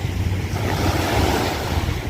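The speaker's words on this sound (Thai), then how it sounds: "ฟังเสียงคลื่นซัดสาดไปด้วย" Waves roll onto Pattaya beach in a continuous loud wash, close by, with wind buffeting the microphone.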